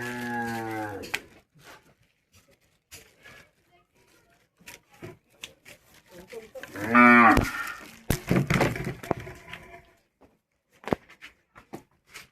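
Cattle lowing in a traditional cattle shed in rural Konkan, with one short moo at the start and a longer, louder moo midway, separated by quiet rustling, wooden knocks and some talk.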